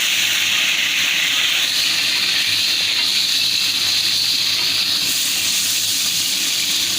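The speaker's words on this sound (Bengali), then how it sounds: "ফুলকপি খুব তেল ফাটায়" Cauliflower frying in hot oil in a pan, a loud, steady hiss and sizzle of spattering oil that runs unbroken throughout, with no voices over it.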